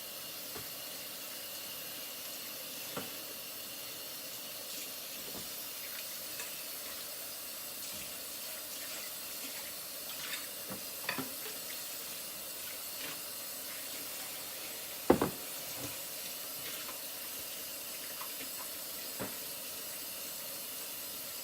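Lady finger okra sautés in oil in a pan, making a steady, soft sizzling hiss with occasional faint pops and crackles throughout, heard without any talk.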